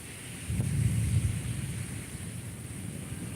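Thunderstorm with rain and lightning, a deep rumble of thunder rolling in over a steady hiss of rain, fairly loud and continuous with no talking.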